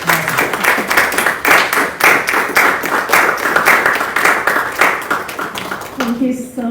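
Lively audience applause welcoming the founder on stage at a dyslexia awareness event, dense rhythmic clapping close and loud for several seconds, tapering off as a voice begins speaking at the very end.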